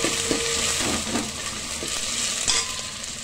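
Sliced onion and split green chillies sizzle loudly in hot oil in a pan while a spoon stirs them, giving a dense, continuous frying hiss with occasional scraping clinks.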